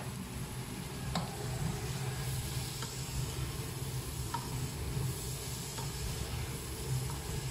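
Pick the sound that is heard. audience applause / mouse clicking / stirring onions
stirring onions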